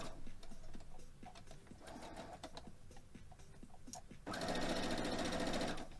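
Sewing machine stitching pieced quilt blocks, a rapid mechanical whir that starts in short bursts and then runs loud and steady near the end, with light clicks from handling fabric.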